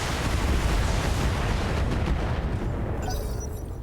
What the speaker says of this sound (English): we're just going to have to unload everything and hope for some big explosions